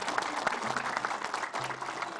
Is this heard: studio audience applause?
yes